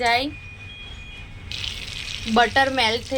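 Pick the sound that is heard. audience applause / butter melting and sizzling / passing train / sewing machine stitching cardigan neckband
butter melting and sizzling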